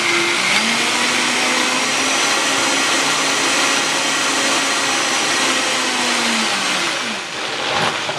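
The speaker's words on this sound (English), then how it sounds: "Now you want to mix this all up until it's nice and creamy." Kitchen blender running on variable speed, puréeing sesame peanut sauce until creamy: a loud, steady motor whir with a dense churning roar that drops briefly near the end, with no talk.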